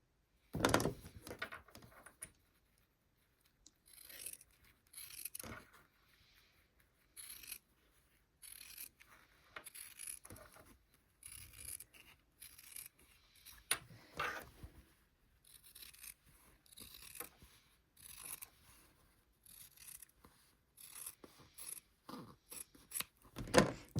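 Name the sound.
cutting quilt fabric along a line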